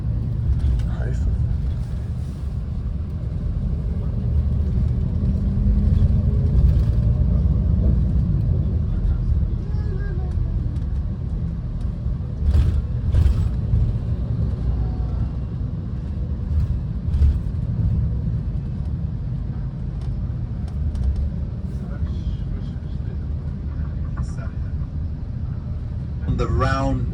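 A tour bus drives through Haifa with a steady low engine rumble and road noise throughout, and a guide's voice can be heard talking over it.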